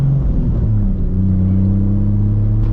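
A Toyota Supra MKIV engine idling, a loud, close, steady low rumble with a constant even hum that doesn't rise or fall, and no voices.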